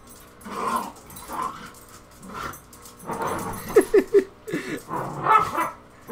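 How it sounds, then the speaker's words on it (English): Several dogs bark, yip and whimper in short excited bursts, close and loud, with a voice shouting in between. "Oh my god, these dogs."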